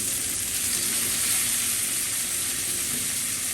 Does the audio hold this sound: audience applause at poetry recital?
no